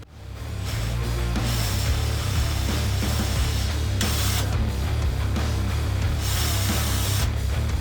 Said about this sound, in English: I could drill my last hole right there.